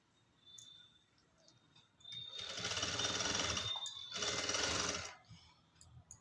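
A sewing machine stitches a blouse made from a silk saree, with two short close bursts of buzzing mechanical whir separated by a brief pause, set against a quiet background with a few small clicks.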